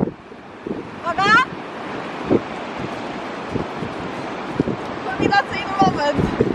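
Ocean waves wash and wind buffets the microphone on the Irish coast, a constant roar with occasional surges, while people's voices come through intermittently.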